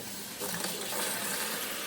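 Tap water running into a cooking pot holding leftover chicken broth for turkey pot pie, a steady rushing gush that swells slightly, no talking.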